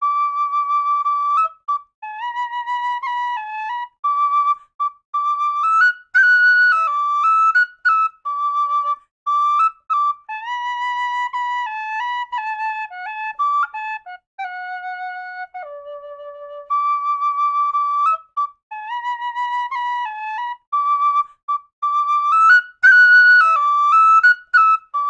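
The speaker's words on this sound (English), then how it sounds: "I'm going to play each one of these whistles for you, and I'll play through a tune" A Carbony high D tin whistle plays a lively tune alone, its pure bright notes running in quick phrases with brief breaths between them, close and clear throughout.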